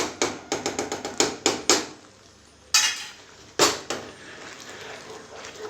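A spoon scrapes and clinks against a pan while thickening milk cake mixture with sugar and ghee is stirred, a quick run of sharp metallic strokes followed by two louder isolated scrapes, close up with no talk.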